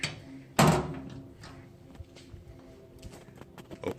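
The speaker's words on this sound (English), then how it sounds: "So I'm gonna go ahead and close the cabinet door." A wooden cabinet door on an Old Country vertical smoker swings shut with a single solid thump, followed by faint clatter and shuffling.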